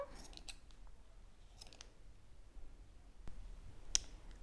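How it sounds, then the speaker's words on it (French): Scissors snip through yarn loops in a few quiet, sharp clicks, with one clearer close cut near the end against faint room noise. "On va couper au niveau des boucles."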